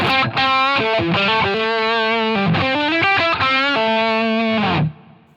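An electric guitar through a Line 6 Helix with reverb plays sustained, distorted notes and chords with a reverb tail, ringing out before fading to near silence at the end.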